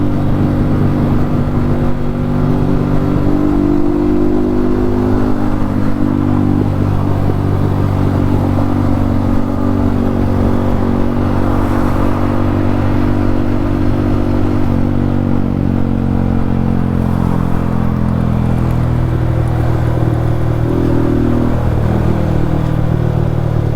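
A Yamaha MT-15 motorcycle fitted with an Akrapovic exhaust runs loud and close for over twenty seconds, its deep throaty engine note holding steady with rising and falling revs.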